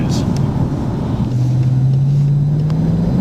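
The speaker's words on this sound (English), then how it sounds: "Inside you can just hear that V8 burbling away in the background" BMW 650i Coupé V8 engine burbling from inside the cabin, a steady low drone with a rising tone as it pulls, heard at moderate level beneath faint road noise.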